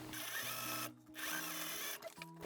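Sewing machine stitching an inner pocket to a seam allowance on a Barbie-size trench coat, a close, loud, fast whirring hum in two bursts with brief stops between.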